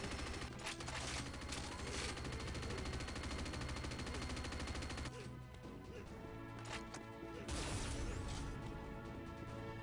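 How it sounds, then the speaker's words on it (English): Rapid gunfire in the video game Unreal Tournament GOTY, dense continuous shooting with sharp bursts and crashes, steady and loud throughout with brief pauses. "I don't know who is shooting at me."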